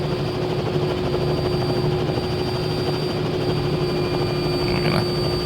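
A Robinson R66-T turbine helicopter lifts off into a hover, its steady loud rotor and engine drone filling the cabin with a constant whine and low thrum throughout.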